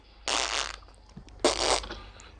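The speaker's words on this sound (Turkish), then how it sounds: "Ay animeler bile osuruyormuş ya." An anime character in the video game Melon Sandbox lets out two fart noises, each a brief loud, buzzy blast with a short pause between them.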